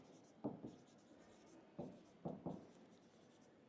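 Chalk or marker scratches out writing on a board in a quiet classroom, several short scraping strokes in brief bursts separated by pauses, close but soft.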